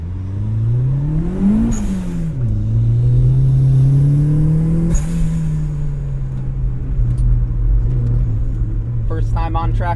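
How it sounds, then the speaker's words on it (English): Turbocharged Mazda Miata engine revving on the Lime Rock Park race track, a loud close drone that climbs and drops through gear changes, with a brief whir and clatter near the end. "Today we are taking my turbo Miata up to Lime Rock Park to rip it"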